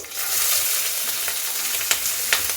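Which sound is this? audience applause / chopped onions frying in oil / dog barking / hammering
chopped onions frying in oil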